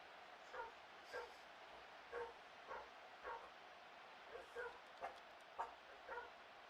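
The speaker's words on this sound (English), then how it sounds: "the dog is barking" A dog barks in short, faint, evenly spaced yips and bow-wows, about a dozen across the stretch, distant and thin over a steady low background hum.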